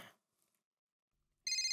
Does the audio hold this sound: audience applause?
no